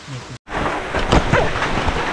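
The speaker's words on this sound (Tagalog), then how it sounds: "lumakas na po yung ulan" Heavy rain pours down in a steady loud hiss with low thunder rumbling through it, broad and close, after a brief dropout near the start.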